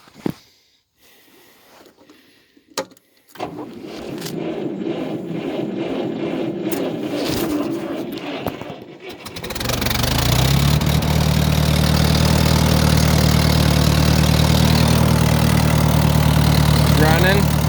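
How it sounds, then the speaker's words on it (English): An old 6-volt engine cold-starts in snow after a few seconds of quiet fumbling, cranking briefly and then catching into a loud, steady idle that holds close by for the rest of the clip. "The old 6-volt will pretty well start on a stone dead battery"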